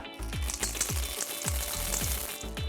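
Chocolate chips are stirred into thick chewy cookie dough in a bowl. Rhythmic, close scraping strokes come about twice a second over a steady rustle.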